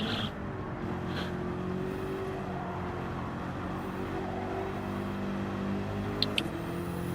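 A race car in Gran Turismo 7 drones steadily through a long, even engine note, then gives a couple of sharp clicks near the end, with no talking.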